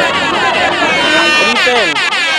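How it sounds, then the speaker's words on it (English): An air horn blows loudly and continuously, its bright tone wavering and sliding in pitch throughout a short burst. "But he's just using an air horn."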